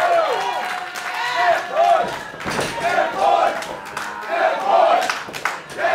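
A professional wrestling crowd roars and chants in surging waves during a tag-team match, with thuds from the ring and shouted calls rising and falling over a constant loud arena din.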